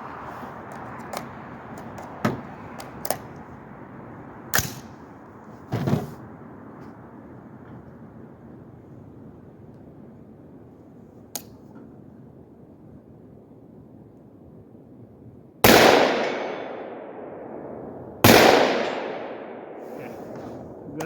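5.56 rifle with a shielded muzzle brake fires outdoors: several sharp distant-sounding shots early on, then two loud close blasts with long rolling echoes near the end, wind noise between.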